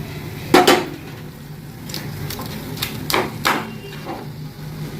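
Fried hilsa fish heads go into a pan of cooking kochu greens, with a few sharp metallic clinks and clatters from the utensil and pan spread over several seconds in a quiet kitchen.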